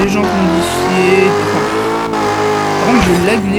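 Customised car with stickers and modified rims in a racing video game: a loud, steady engine whine with shifting pitch and a brief tire squeal, with someone talking over it.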